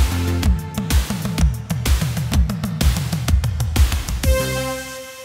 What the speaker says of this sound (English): while I play the run with each kind of different tom, so each different pitch in the tom, I'm also adjusting the panoration